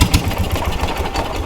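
A vintage 1980s UTV engine running close and loud with a rapid, uneven putter and knocking pulse, steady for the whole moment without talk.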